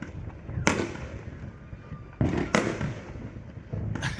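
Fireworks go off at night in Illinois around the Fourth of July, with three sharp distant bangs a second or two apart and a soft crackling tail after each.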